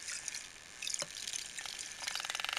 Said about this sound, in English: push the button where it's in the water, and it cleans your brushes